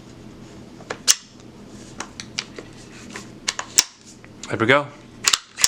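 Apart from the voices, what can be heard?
Ruger 10/22 Takedown rifle being plugged together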